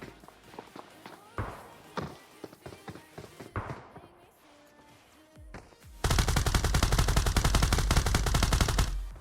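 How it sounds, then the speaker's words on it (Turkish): Rapid automatic gunfire from a new weapon in PUBG on the Erangel 2035 map erupts as a loud, continuous burst in the second half, after scattered single shots and footsteps. "yeni silah ne güzel vuruyor öyle"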